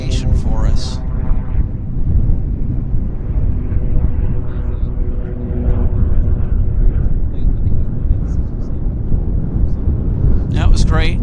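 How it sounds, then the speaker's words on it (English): A Piper Navajo takes its roll and lifts off early at Vancouver Airport in strong winds, a steady propeller drone under gusty wind noise while people talk over it. "we've got our Navajo on the roll"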